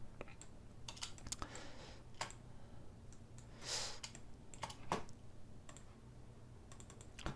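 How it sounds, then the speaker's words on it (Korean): Computer keyboard keys pressed during Rhino 7 3D modelling work, a scattering of faint, quiet clicks and taps spread unevenly over a low steady room hum, with no talk. "컨트롤 시프트 키를 누르고 이 상태에서"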